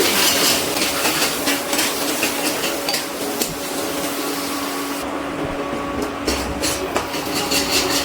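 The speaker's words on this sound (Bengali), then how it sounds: "এবার খুব ভালো করে একটু নাড়াচাড়া করে নিচ্ছি।" Steady clinks and scrapes of a utensil stirring pointed gourd korma with dried fenugreek leaves around a pan, continuous and close, over a constant background hum.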